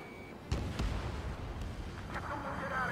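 A missile launches in the Ace Combat 7 flight game, a sudden burst followed by a sustained roaring rush layered over the steady drone of jet engines.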